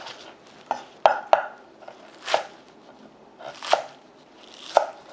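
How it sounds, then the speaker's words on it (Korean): A knife chops green onion on a cutting board for summer kimchi. There are about half a dozen crisp, separate knocks at an irregular slow pace, close and clear against a quiet kitchen. "감자가 익는 동안 파를 썰어 보겠습니다"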